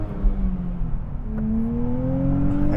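A 2025 Nissan Z sports car accelerates hard from inside the cabin, its engine note climbing steadily in pitch through a gear over a continuous road rumble, loud and close.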